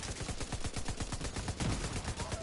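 Rapid automatic gunfire in The Division 2 rattles out in a dense, continuous burst of sharp shots, loud and close, with no talk over it.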